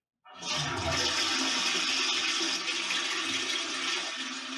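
A toilet flush sound effect bursts in abruptly and holds as a loud, rushing swirl of water that slowly eases off toward the end, heard alone without talk.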